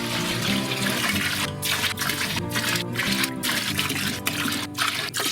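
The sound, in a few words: feints from several spirit runs poured into a still pot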